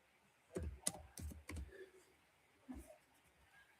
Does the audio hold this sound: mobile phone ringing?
no